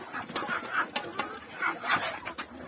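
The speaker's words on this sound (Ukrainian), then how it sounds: "Індики підростають, індики бурбони." Bourbon turkeys and other poultry clucking and calling in a snowy farmyard, a run of short overlapping calls at close range, fairly busy and steady with no talk over them.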